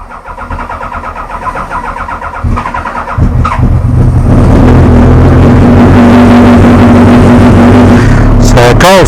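A 1200 motorcycle engine cold-starts on choke, cranking briefly before catching and settling into a loud, steady, close-up idle that carries to the end.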